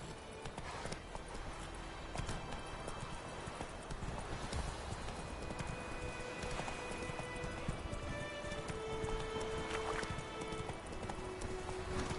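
Roach the horse gallops in The Witcher 3, a steady clip-clop of hooves drumming continuously at close range with faint ambient game sounds underneath.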